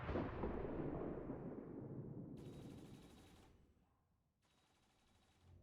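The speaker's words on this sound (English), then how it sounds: "then we can start shooting the mechtoids" A heavy burst of gunfire and an impact in XCOM Long War of the Chosen, aimed at mechtoids, fades out as a loud rumbling decay, followed by two short electronic hums.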